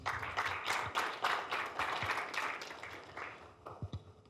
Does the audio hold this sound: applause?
yes